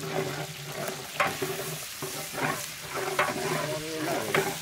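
Rice frying in a pan with onion, garlic, green chilies and spices, a steady close sizzle broken by periodic scraping stirs about once a second.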